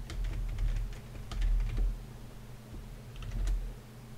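Quick clattering keystrokes on a computer keyboard, typed in short irregular bursts, close and fairly quiet with no talking.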